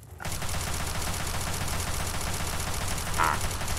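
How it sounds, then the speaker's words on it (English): Rapid, dense gunfire from a weapon in Fallout 3, continuous and loud for several seconds with overlapping bursts and a low rumble underneath. "Rapid fire."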